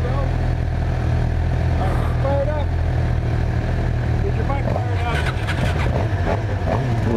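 A 2018 Suzuki GSX-R750 motorcycle idles while stationary, its engine making a steady, even low rumble throughout with a faint voice underneath.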